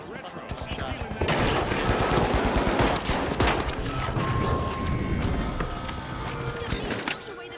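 Gunfire in the video game The Finals, a shotgun-focused match, with dense overlapping shots and explosions over a continuous loud background; a player talks at times.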